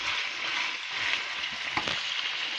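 Onions frying in a pan for Singapore noodles, a steady close hiss and sizzle throughout with a few faint stirring clicks, no voices.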